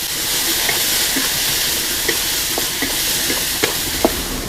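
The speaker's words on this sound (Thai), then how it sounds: "แล้วผัดถั่วงอกให้สลด ไม่ต้องผัดให้เขาสุกมากนะครับ" Bean sprouts seasoned with fish sauce stir-fry in a hot pan for an oyster dish. A loud, continuous hiss and sizzle carries a few sharp spatula knocks against the pan.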